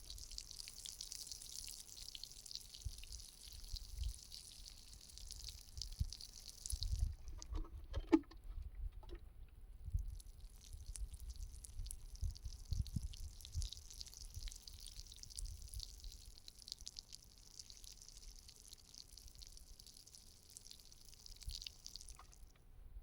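Water dripping and trickling as it runs off the soil around a freshly watered young tree planted against the wind in an off-grid desert setting, with steady soft patter and splashes, close by and without talk.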